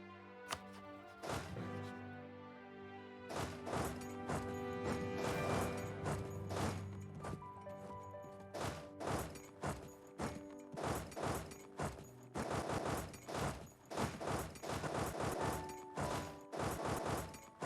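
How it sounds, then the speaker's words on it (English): Repeated heavy booms and crashes of cannon fire during a siege in the strategy video game Europa Universalis IV thud over a dense tonal musical background, coming in irregular bursts that grow busier toward the end. "Just sieging me out with a cannon, huh?"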